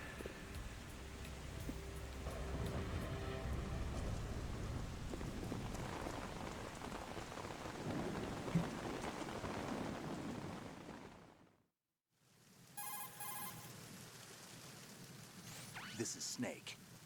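Heavy rain pours down in the video game Metal Gear Solid 2, a dense, steady hiss that cuts out briefly to silence before resuming with fainter rain and other game sounds.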